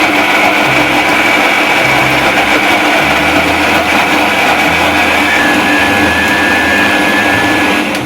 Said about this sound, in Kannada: ಸ್ವಲ್ಪ ನೀರು ಹಾಕೊಳ್ಳೋಣ, ರುಬ್ಕೊಬಿಡೋಣ